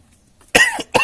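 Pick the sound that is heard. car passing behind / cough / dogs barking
cough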